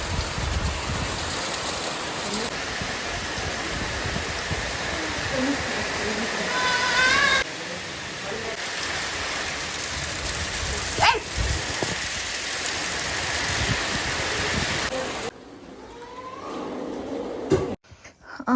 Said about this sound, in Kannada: ಗಾಳಿ ಮಳೆ